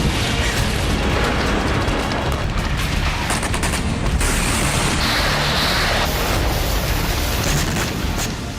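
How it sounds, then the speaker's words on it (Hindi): A large explosion from a Russian guided projectile striking a Ukrainian T-72M1 tank in Zaporizhzhia, with sustained roaring blast noise and crackling bursts, loud and dense throughout, with no speech. "देखिए यहां कितना बड़ा धमाका हुआ।"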